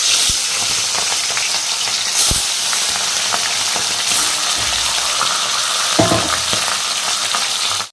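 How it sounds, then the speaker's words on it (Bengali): Hilsa fish coated in salt and turmeric sizzles loudly in hot oil, a constant close crackle with occasional spatters and stirring clinks, and no talking. "তেলটা গরম হয়ে গেছে, ছেড়ে দেবো ইলিশ মাছ।"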